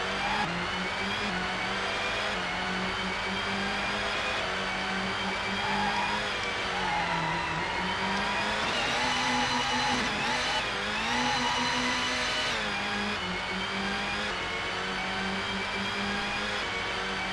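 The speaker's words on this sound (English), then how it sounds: "I like the car sound." Steady, droning car engine from the racing game GT64 Championship Edition, holding a sustained whine with slight pitch rises and dips, continuous throughout and with no pauses.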